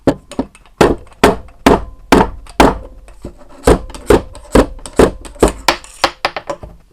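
Sharp, hollow thwacks of a baffle being knocked out through an Air Arms air rifle silencer tube, struck repeatedly at an uneven, steady pace, close-up and loud with no voices.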